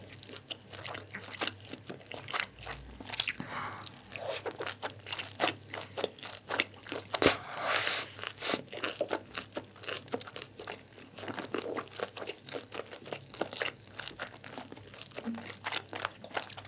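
Crunchy chili shrimp is eaten up close in a mukbang. Steady crisp bites and chewing crunches repeat throughout, with a few louder crackles and soft mouth sounds.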